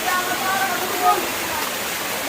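A steady, dense rush of a waterfall in Kolmakanda, Netrokona, Bangladesh, broad and continuous, filling the whole moment without pause.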